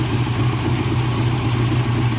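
A carbureted LS 5.3 V8 swap idles steadily close by, a continuous loud low throb with an even pulsing beat and no talk.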